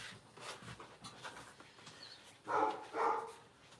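A dog barks indoors, first with a few faint yips and whimpers and then with two loud, close barks near the end, while no one speaks.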